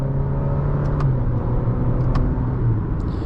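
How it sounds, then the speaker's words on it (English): Engine of a 2020 Honda Accord EX-L 2.0T downshifting via paddle shifters, a steady low cabin rumble with a rising rev hum heard from inside the car, continuous and fairly loud, with a few faint clicks. "We'll try these paddle shifters actually. So I'm gonna downshift."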